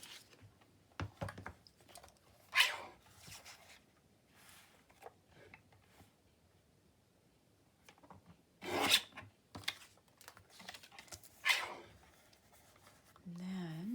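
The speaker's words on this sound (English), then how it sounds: "Get my chopper out." A paper chopper slicing sheets for decorated journal pages, heard as a few sharp, close rasping cuts spaced apart, with quieter handling noises between them.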